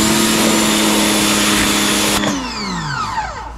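AIVolt electric pressure washer motor running loud and steady as it sprays a dirty brick surface, then shutting off and whining down in pitch.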